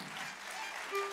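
Audience applauding after a folk ensemble's stage performance at a concert, a dense, even wash of many clapping hands heard from a distance, fairly soft throughout.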